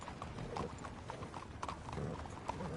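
Horse hooves clip-clop in the video game Red Dead Redemption 2, quiet irregular clopping in a faint outdoor ambience.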